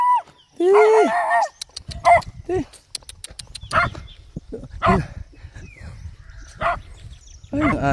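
A dog barks and yips in short bursts along a walking route, some sharp and close, others whimpering, with a person talking in between the barks.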